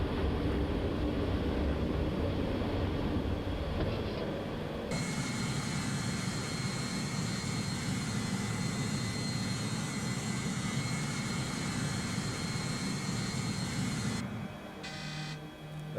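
DC-9 jet airliner climbing after takeoff in a flight simulator game, with a continuous roar of jet engines that swells sharply after a few seconds, holds steady, then drops away near the end.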